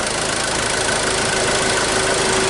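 A Ford Ranger diesel engine idles in a steady, even drone with a faint knocking rattle, loud and close, continuous with no speech.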